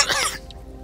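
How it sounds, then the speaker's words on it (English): A single short cough at close range, a harsh throaty burst that fades quickly into quiet room tone. "that's a bit of a cough"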